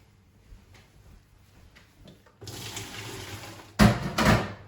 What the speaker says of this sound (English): Now we're gonna pour off the water from the potatoes.